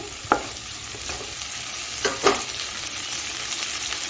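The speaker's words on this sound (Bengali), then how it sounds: "আদা রসটাকে একটু সবজির সঙ্গে মিশিয়ে নিচ্ছি এ সময় গ্যাসটা আমি হাইতে করে দিয়েছি" Vegetables and ginger juice are stirred together in a pan over high gas, giving a continuous close sizzle broken by a few sharp scraping clacks from the spoon.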